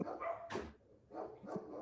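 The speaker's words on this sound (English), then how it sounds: "Dogs will always bark, as you can hear." Dogs bark faintly from a distance in a few short yapping bursts separated by brief pauses.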